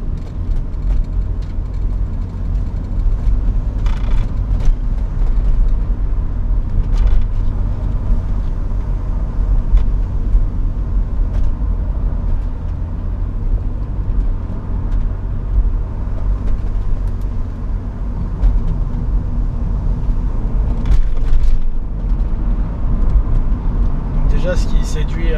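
A 1998 BMW 323i E36 Touring with the 171-horsepower M52 2.5-litre inline-six and five-speed automatic hums steadily while driving, a low continuous engine and road rumble with someone talking over it throughout.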